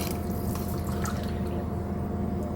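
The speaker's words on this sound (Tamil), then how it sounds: "பாருங்கள் ஏழு டம்ளர் ஊற்றிட்டேன்" Water is poured into a cooking pot for sprouted green gram and chickpea kichdi, making a steady close splashing and filling sound that continues throughout without pause.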